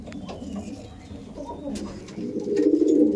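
Abluk pigeons, including a male held in the hand, coo in low rolling bursts that grow louder toward the end, with faint voices and background chatter in the mix.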